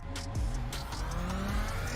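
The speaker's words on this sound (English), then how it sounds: "I guess the engine sounds something like this" A racing car engine hums and revs close by in a sim racing game at Barcelona, a low droning rumble with a brief rise in pitch, heard on its own.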